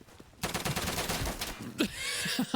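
Rapid gunfire in a video game crackles in a dense, fairly loud burst lasting over a second, followed by a few scattered shots.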